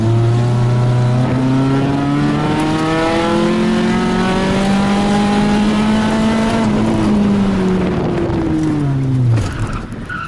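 A car runs an autocross course at speed, its engine loud and close as it revs up and down through slaloms, with tire squeal and a drop in engine note near the end under hard braking.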